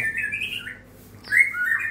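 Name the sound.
long-tailed white-rumped shama (murai batu) calling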